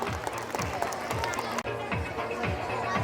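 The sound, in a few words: applause for Santa gift winner at school Christmas celebration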